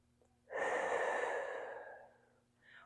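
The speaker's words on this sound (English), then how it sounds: "think of breathing into the belt or band like so." A single slow, deep inhale drawn through the nose and mouth while a belt is tied around the lower ribs, close and audible for about two seconds, then a faint start of the next breath.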